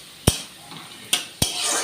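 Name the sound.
stirring food in a pot while cooking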